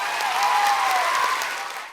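Applause from an audience on a wrestling review podcast, a steady wash of clapping that swells and holds for about two seconds before easing off slightly at the end.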